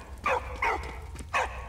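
Three sharp dog barks in the World War I game Valiant Hearts, evenly spaced and fairly close, heard alone without talk.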